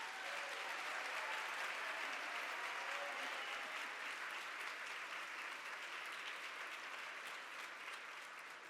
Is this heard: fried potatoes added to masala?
no